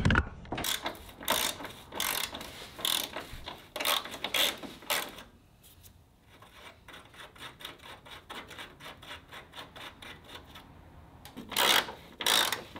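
A hand ratchet loosening radiator shroud bolts on a 1977 Ford F-250 clicks in quick bursts of rapid ticking, pausing and resuming, with quieter metallic rubbing and handling noises between strokes.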